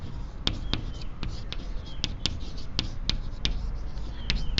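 Chalk or marker strokes on a board during a physics optics lecture, a series of sharp taps and short scratches at an irregular pace against a steady room hiss.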